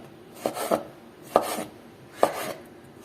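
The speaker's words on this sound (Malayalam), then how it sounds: "ഇതിൽ കുറച്ച് ഭാഗം നമുക്കൊന്ന് കട്ട് ചെയ്ത് മാറ്റി വെക്കാം" Knife chopping through vegetables on a board while preparing a mushroom chicken dish, a few distinct cuts in an irregular rhythm, close and clear with no talking.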